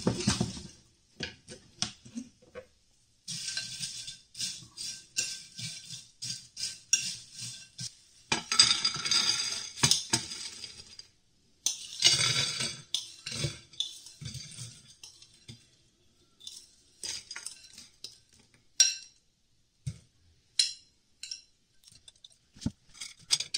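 Salted pieces of meat for a Flemish beef stew tossed and mixed in a bowl, heard close as irregular bursts of wet shuffling and clinking against the bowl, separated by short quiet pauses, with no voices.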